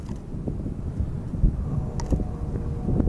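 Steady wind of about 15 mph with gusts to 25 blows across the microphone with rumbling low buffeting and occasional stronger gusts, plus faint creaks and taps.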